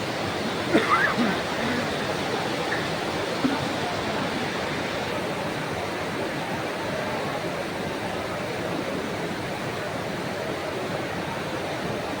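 Steady rain falls over an outdoor political gathering in Madhya Pradesh, a dense, even hiss of water that holds without letup from start to finish, with no clear voices above it.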